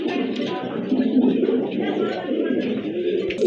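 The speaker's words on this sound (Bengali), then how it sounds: "অনেক বড় সাইজের কবুতর" Large pigeons at a sale coo together, a murmuring cluster of low throaty calls overlapping continuously at close range.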